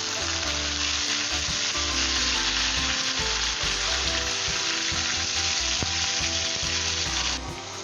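Half a kilo of chicken fries in a hot pan for a spicy chicken and capsicum curry, producing a loud, continuous, close sizzle with occasional stirring scrapes that eases slightly near the end.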